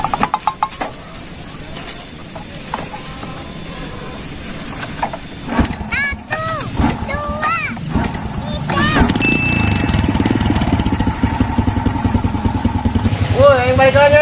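A motorcycle engine runs in an Indonesian village comedy drama, giving a rough, continuous engine drone throughout while people talk and shout over it.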